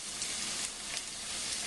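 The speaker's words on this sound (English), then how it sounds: "We're going to toss in the onions here and the garlic first." Onions and garlic sizzle in a hot pan with a dense, steady crackling hiss, close and continuous.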